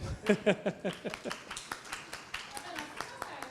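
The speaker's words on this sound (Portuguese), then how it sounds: "Então, muito palmas aí, ficou muito bom." Scattered hand claps at an opening ceremony lecture, a short burst of sharp claps near the start thinning out into sparse claps, with speech-like sounds underneath.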